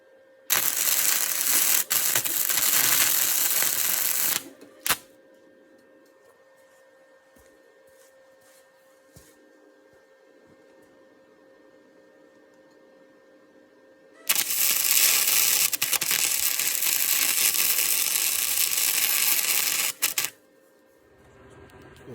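Tack welding an 8-inch piece of angle iron onto the main rack of a forklift, heard as two long, loud bursts of harsh crackling arc hiss separated by a quiet gap, each ending abruptly.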